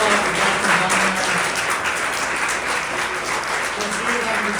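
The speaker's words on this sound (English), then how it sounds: "Round of applause for Justin Bonner" Steady, dense applause from a conference audience at an intactivism event, sustained at an even level throughout with some voices mixed into the crowd noise.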